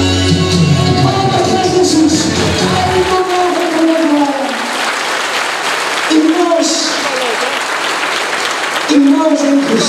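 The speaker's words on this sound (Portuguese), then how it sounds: "Palmas para Jesus." Church congregation clapping together in a worship service, a steady wash of applause with scattered shouts and a worship leader's voice singing and speaking over it throughout.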